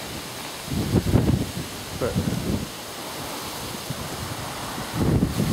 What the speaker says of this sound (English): We're getting wind off of the storm.